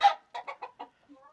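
A hen in a home garden in Jaffna gives a quick run of about five short, close clucks, then a faint low call trailing off, with no talk over it.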